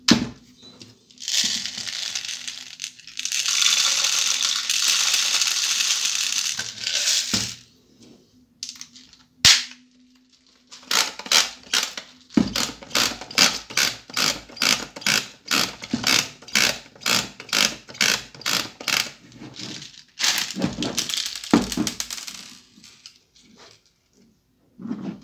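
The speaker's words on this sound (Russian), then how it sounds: "Теперь можно попробовать засыпать шары и проверить подачу." BBs rattle as they are poured into a 3D-printed airsoft drum magazine for a CYMA M1A1, followed by rapid, close bursts of ratcheting clicks as the feed mechanism is wound.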